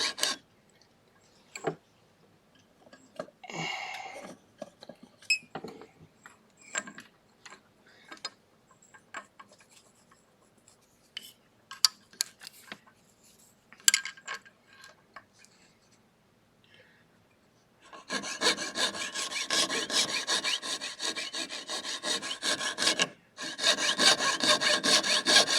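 A rotary burr cuts into a 1492 Spanish coin being made into a ring: first scattered quiet ticks and scrapes, then a sustained close grinding buzz that stops briefly and starts again.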